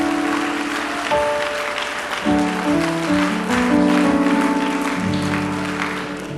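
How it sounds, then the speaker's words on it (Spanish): A church congregation claps for the Lord in sustained applause over music playing in the background. "Dale aplauso al Señor"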